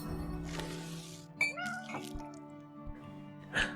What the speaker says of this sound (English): There's a cat. I'm guessing a cat.